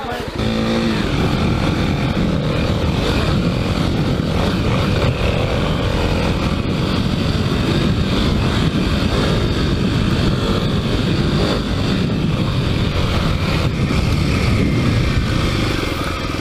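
Kawasaki KLX300 dirt bike ridden on a trail at Highland Park, the single-cylinder engine roaring loud and close without pause, with wind buffeting, the pitch shifting as the throttle changes.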